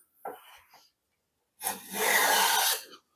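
A Jorgensen #102 low angle block plane takes a thin shaving off wood: a brief rasping stroke, then a longer, louder scraping pass, heard close and alone.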